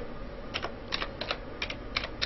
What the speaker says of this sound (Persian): حالا اینجا یه مطلبی رو فارسی لاتین تایپ میکنم